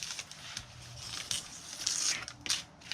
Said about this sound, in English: I am going to go ahead now and trim off the excess.